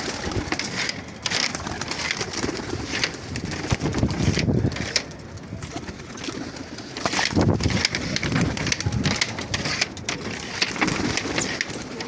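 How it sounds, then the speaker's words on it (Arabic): Pigeons coo on a rooftop loft in Imbaba, soft and fairly close, under steady wind buffeting the microphone. "بصوا الحمام عشان الواحد بقى يطلع لهم"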